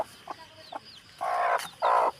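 A desi hen sitting with her newly hatched chick in a backyard poultry setup clucks in a few soft short notes, then gives two louder, longer drawn-out calls, close to the microphone with no talking.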